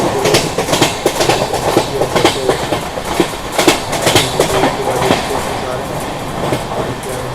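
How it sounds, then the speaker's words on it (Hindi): A Mumbai local train passing alongside the Rajdhani Tejas 12952 from New Delhi to Mumbai: loud, close rhythmic clickety-clack of wheels over rail joints with rumbling carriages, a voice speaking over it. "क्रॉस करते हुए आगे निकल जा रही है"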